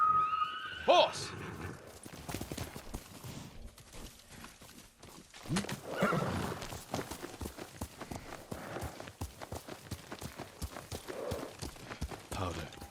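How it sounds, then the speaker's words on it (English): A horse in Ghost of Tsushima whinnies and clops along, hoofbeats pounding in a steady galloping rhythm amid game sound and a voice calling out. "Horse!"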